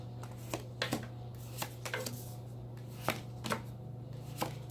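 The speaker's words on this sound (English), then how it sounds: "So let me lay out the cards." Tarot cards are laid down one by one on a table, giving sharp, separate light slaps and taps at an irregular pace over a steady low hum, with no talk.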